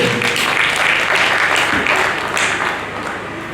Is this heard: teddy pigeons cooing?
no